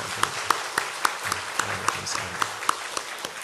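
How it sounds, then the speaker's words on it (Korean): A church congregation applauds its choir at an Easter service, a steady wash of many hands clapping with regular sharper claps standing out, filling the room at moderate loudness. "우리 찬양대를 위해서 우리 박수 한번 드리겠습니다"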